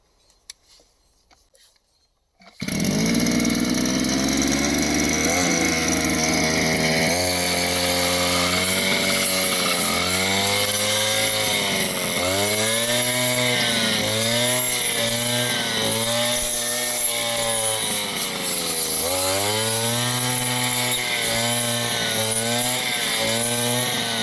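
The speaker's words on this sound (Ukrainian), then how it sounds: "циркулярна пила проти осоки чагарників" A Chinese ABS brushcutter fitted with a circular saw blade roars loudly and continuously, its engine pitch dipping and rising in repeated surges as it cuts through sedge and shrubs, with no voices.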